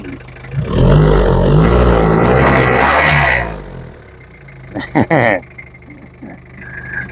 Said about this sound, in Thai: เสียงเครื่องยนต์ครับ